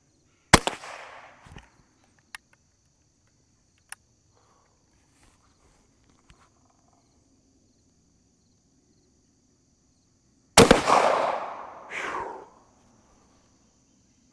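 Two sharp, loud gunshots about ten seconds apart from a Savage Model 42 .410 shotgun firing buckshot at an outdoor range, each with a short echoing tail, and faint footsteps and insect chirps in between.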